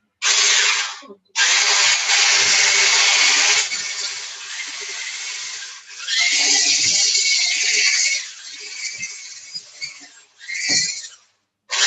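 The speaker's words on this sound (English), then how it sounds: "So you whisk it until it's all blended." A mixture is whisked in a bowl during Easter home baking, making loud, harsh buzzing bursts that stop and start several times with brief pauses between them.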